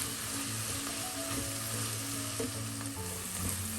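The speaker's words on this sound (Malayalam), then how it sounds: "എല്ലാം കൂടെ ചേർത്തൊന്ന് പച്ചമണം മാറുന്നത് വരെ വഴറ്റാം" Spices stirred and sautéed in hot oil for a Kerala-style chicken varattiyathu, a steady dense sizzle with occasional spoon scrapes, close and continuous, no talking.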